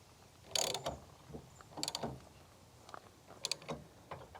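A ratchet clicks in short bursts while the lock bolt on the bottom of a Husky Centerline TS weight distribution hitch is tightened, close and fairly quiet with pauses between strokes.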